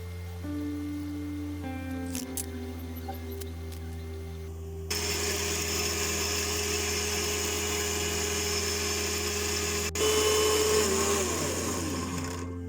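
A mixer grinder blends coriander, onion, tomato and pepper into a paste for mutton chukka, a loud, steady motor whine that starts partway through and runs on without a break, rising slightly in pitch near the end.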